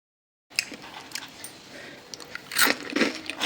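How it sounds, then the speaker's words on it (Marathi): Homemade crispy green pea kurkure snack being bitten and crunched close up, with a few brittle crunches building to a louder burst of crackling near the end, no talking. "ऐकलात ना आवाज आठ दिवस सुद्धा असेच कुरकुरीत राहतील हे कुरकुरे"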